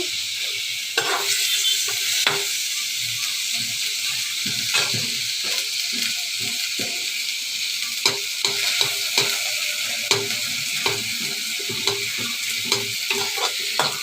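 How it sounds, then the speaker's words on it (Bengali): Dried red chillies fry in hot oil for a khichuri tempering, crackling and sizzling close by under a steady hiss, with scattered sharp pops and the scrape of a spatula stirring the pan. "আর ফার্স্ট থেকে একটু শুকনো লঙ্কা দিয়ে দিলাম"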